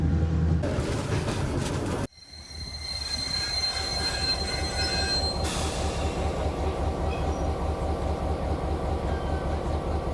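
A train running through a station in North Macedonia, its wheels letting out a sustained high squeal on the rails over a rumbling roll, loud and close, with a sharp jolt partway through.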